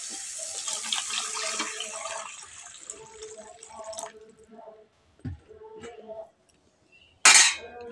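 Water is poured into a cooking pot for a kulekhara leaf and crab dish, a steady splashing pour for about four seconds, followed by quieter clinks and a sharp metallic clatter near the end.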